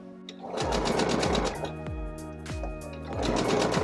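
Sewing machine stitching a seam of bias binding on a BBQ apron, a steady fast mechanical whirr running nearly the whole time with rhythmic needle thumps, close and fairly loud, slowing briefly midway before speeding up again.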